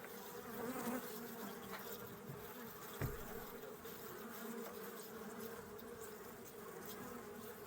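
Honeybees buzzing over brood comb in a hive taken from a wild swarm, a steady, close, dense hum of many insects with a few brief knocks, no talking.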